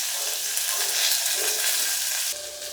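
Onions, dried red chillies, green chillies and curry leaves with chana dal, mustard and cumin seeds sizzle steadily in hot oil for a jackfruit seed curry, a loud close crackling hiss that eases slightly near the end.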